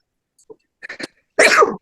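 A sharp sneeze close by, preceded by a couple of quick inhaling catches.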